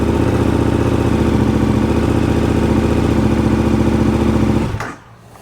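A KTM 1290 motorcycle engine runs close and loud with a steady, even idle, then cuts off abruptly near the end, leaving near silence.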